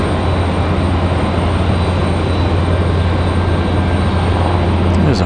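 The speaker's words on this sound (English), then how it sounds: "So we check out the PC-24 crossing the taxiways there." A Pilatus PC-24 business jet taxis across airport taxiways at Raleigh-Durham, giving a steady, loud broadband engine roar with a constant low hum throughout.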